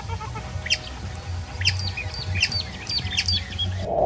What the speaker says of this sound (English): it is a bird with curious and active behavior, living while hopping among the reeds as it emits sharp and repetitive calls